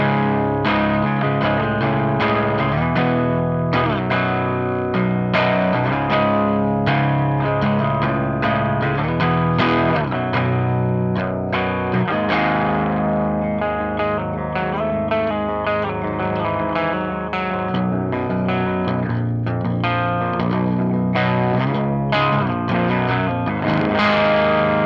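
Electric guitar with a Corrigan high-output humbucker plays through a Mesa Boogie cabinet, a continuous chordal passage with effects and some grit, loud and alone without talk.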